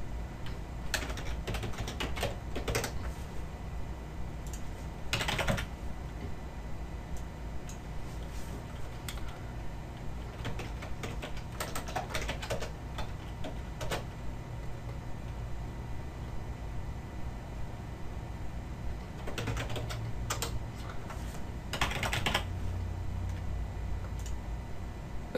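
Computer keyboard typing in an office setting, quiet and close, with bursts of rapid keystrokes separated by pauses and faint background hiss.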